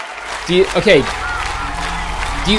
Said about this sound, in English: you guys are just cheering over me